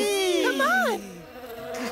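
Cartoon bees buzz near a hive in a children's animated show, a bright swooping drone with rising and falling pitch that is loud for about a second, then fades into a softer hum.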